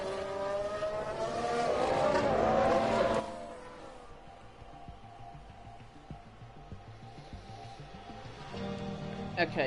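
F1 cars on track in the F1 Manager racing game with Mercedes, a loud engine drone and whine for the first few seconds that drops to a quieter, steady background hum, with a short burst of sharper sound near the end.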